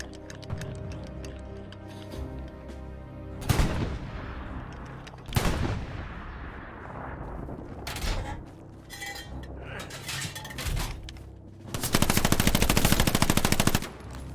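Artillery and machine gun fire in the Hell Let Loose video game: heavy booming blasts at intervals, scattered ticking shots, and a sustained rapid burst of gunfire near the end, moderately loud.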